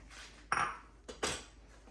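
Metal utensil scraping and clinking against a pot while escoveitch fish sauce with cloves is stirred, two bright clatters about a second apart over a faint steady background hum.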